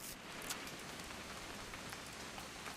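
Steady rain falling in the game What Remains of Edith Finch, a dense hiss of drops pattering on surfaces at an even, moderate level throughout, with no other sounds.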